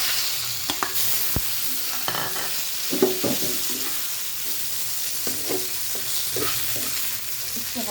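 Pieces of fried eggplant are tipped into onions frying with turmeric and stirred, giving a steady low sizzle broken by repeated scraping and knocking of the spoon against the pan.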